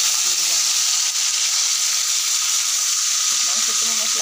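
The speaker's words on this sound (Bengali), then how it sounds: "মশলাগুলো দিয়ে দিলাম।" Whole spices and bay leaf dropped into hot oil after frying potatoes, ahead of a meat curry, give a loud, steady, close sizzling hiss throughout, with faint voice traces underneath.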